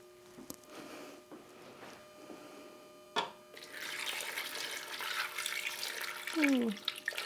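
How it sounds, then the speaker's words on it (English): Chicken stock poured over potatoes in a pot for potato soup: a steady, close splashing pour that starts partway in and keeps running to the end, following a few faint clinks. "So now we are going to add some chicken stock over this"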